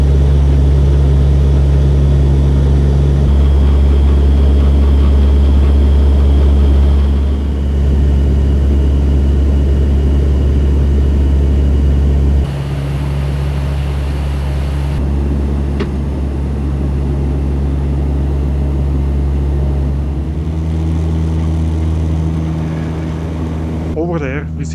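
Steady cabin drone of a Chinese-built MA60 turboprop airliner in flight over Laos, a loud, continuous low engine and propeller hum with broadband airflow hiss that shifts slightly in pitch, heard alone without talk.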